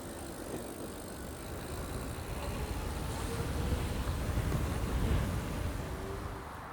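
A bicycle converted with an electric hub motor kit rides at speed, giving a steady rumbling wind and road roar that swells gradually, without any clear motor whine.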